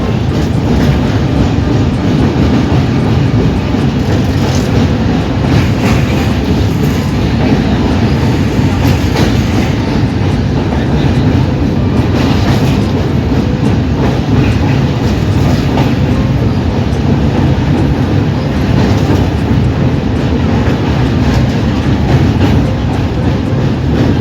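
A train rolls along the bank of the Rupnarayan river, its steady loud rumble and rhythmic clickety-clack of wheels continuing unbroken throughout with no voices.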